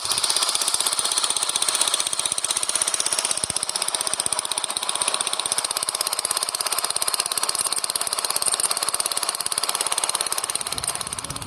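Vehicle engines and factory machinery rumble and rattle in a steady, loud, dense mechanical din with rapid repetitive pulsing, continuous throughout with no voices.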